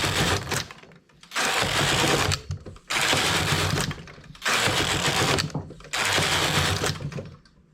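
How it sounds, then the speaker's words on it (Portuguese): Knitting machine carriage working the front bed across six rows, producing four loud mechanical whirring passes of about a second and a half each, separated by brief pauses, with no voice over it. "faço 6 carreiras"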